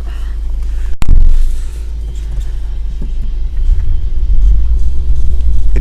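A UAZ off-road vehicle pushes through deep snow in low, heavy rumbling, with one hard thump near the start as the body jolts, then a steady, close engine drone that slowly builds.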